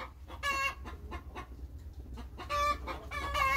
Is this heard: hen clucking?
yes